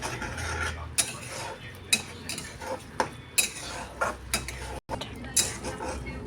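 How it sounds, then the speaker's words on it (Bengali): Food is stirred and mixed in a cooking pot with a metal spoon, giving quiet, regular scrapes and sharp clinks against the pot roughly once a second. "ভালো করে নাড়াচাড়া করে নেব"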